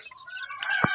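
Native chickens cluck in a short, close burst of a second or so, giving several quick rising calls with one sharper squawk near the end.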